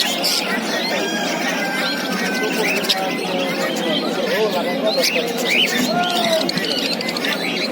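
Cockatiels, lovebirds and pigeons at a busy bird market fill the air with constant overlapping chirps, tweets and whistling calls, close and loud against a dense background of crowd murmur.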